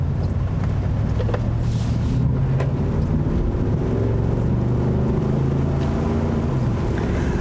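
The 7.3-liter gas V8 of a 2020 Ford F-250 Tremor pickup rumbles deep and steady, a loud, continuous low drone with faint rattles and bumps scattered over the engine note.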